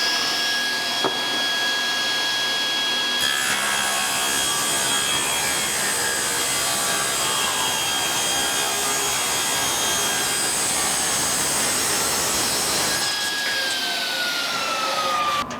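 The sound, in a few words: running a board through a jointer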